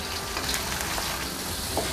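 Potatoes fry in a small amount of oil with a steady, close sizzle and crackle that runs the whole time with no talking.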